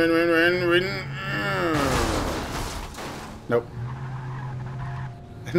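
Car engine revving with tire skids and screeches during a traffic-jam ramming attempt in the video game Alan Wake, loud and continuous with a strong harmonic whine, plus a short impact near the end.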